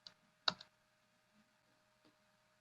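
A few isolated key taps on a computer keyboard while entering a search pattern in a Linux terminal pager, heard as one sharp click followed by a fainter tap, quiet and close.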